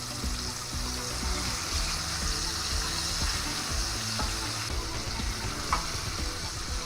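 Meatballs sizzle loudly in a frying pan as their second side browns, a continuous crackling hiss of oil with scattered pops and a few light scraping stirs, close and unbroken throughout.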